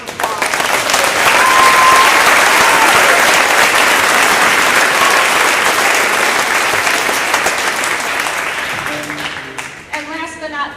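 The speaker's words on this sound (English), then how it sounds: "So please offer them a round of applause." A concert audience gives loud, sustained applause for the custodial staff, dense clapping that swells early, holds, then tapers off as the room quiets and a voice begins to speak at the very end.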